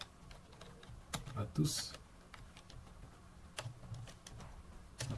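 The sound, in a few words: typing a note on a computer keyboard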